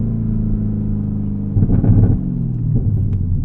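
A ZL1 Camaro launches from 0 to 60 with its tires spinning, a loud steady engine drone that swells into a rougher, surging roar midway before easing off again, heard up close with no talking.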